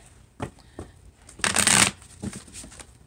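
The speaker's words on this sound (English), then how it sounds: "Let me get you one more shuffle" Cards riffle and snap through a quick shuffle, with a few light taps before and after the main burst, close and clear.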